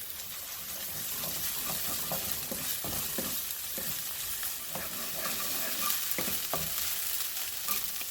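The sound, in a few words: minced ginger and garlic frying for beef stir fry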